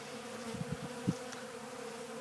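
Honeybees feeding at a winter feeder make a faint, low buzz, with a few brief louder hums as single bees pass close by.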